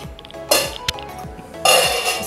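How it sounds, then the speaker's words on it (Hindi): A metal pan is handled and refined oil is spooned in, giving sharp clinks and scrapes of metal on metal, a few distinct loud knocks with brief gaps, close and alone. "पैन में डाल लेंगे हम 2 बड़े चम्मच ऑयल, रिफाइंड ऑयल लेंगे अच्छे"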